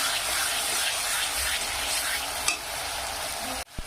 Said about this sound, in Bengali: পেঁয়াজ বাটাটা দিয়ে এইভাবে আমি ভালো করে কষে নেব।